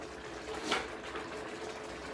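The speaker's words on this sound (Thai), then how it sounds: "แล้วก็ใส่น้ำเข้าไป" Water is poured into a pan of stir-fry being made with canned fish and basil, a brief, soft splash and trickle peaking near the middle over a quiet kitchen background, with no talking.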